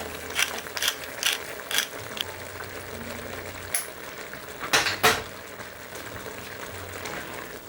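A ratcheting pepper grinder clicks over a stew of eggplant, potato and beans in several short bursts of turning, close and crisp, then a louder pair of grinds near the end over a low kitchen hum.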